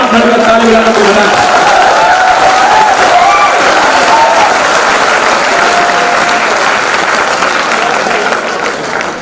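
An audience at a poetry recital breaks into steady, close applause, a thick sustained clatter of many hands that tapers slightly toward the end, with a few voices underneath.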